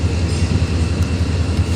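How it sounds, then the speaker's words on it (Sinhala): A train nears a small Sri Lankan station, a steady low rumble of rolling wheels and engine that stays loud and even through a brief moment. "ඔන්න ගන්න තව කෝච්චියක් දැන් අර පැත්තෙන් එනවා."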